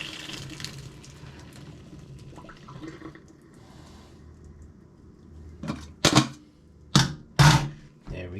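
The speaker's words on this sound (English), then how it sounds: "So first thing I need to do is drain the water." Water being drained from a pot of boiled potatoes in a home kitchen, a soft running pour and gurgle early on, followed by several loud, close clattering knocks of pot and utensils near the end.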